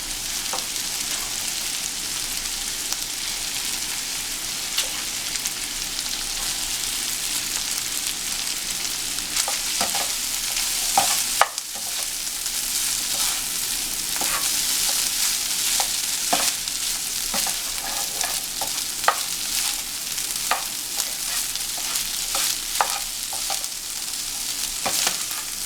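Rice frying in a pan for Nigerian party fried rice, a steady close sizzle with scraping stirs and spoon clicks scattered throughout, continuous and fairly loud with no talking.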